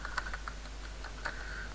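Soft, rapid keystrokes on a computer keyboard while code is entered, a quick irregular patter of faint clicks with a couple of sharper taps, close and quiet with no talking.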